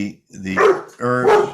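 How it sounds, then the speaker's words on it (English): A dog barks indoors in two loud bursts, its voice overlapping with nearby talk. "That's my dog"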